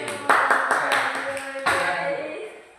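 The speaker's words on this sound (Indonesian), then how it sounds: "tepuk tangan dulu kepada Ayu" A classroom group claps for a student, a short burst of several hand claps with a bright ringing tone, then a fresh wave of clapping that fades out.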